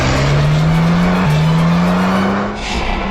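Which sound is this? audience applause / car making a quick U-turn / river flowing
car making a quick U-turn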